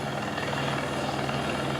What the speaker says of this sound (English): Oh, the copter!